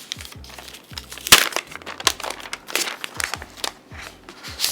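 Plastic packaging crinkles and rustles in quick irregular bursts, close up, as an Apple keyboard from a 27-inch iMac 5K is unwrapped, with a faint low hum between the crackles.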